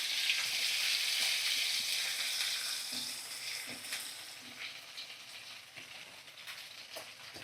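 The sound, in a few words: chopped onion frying with spices in a pan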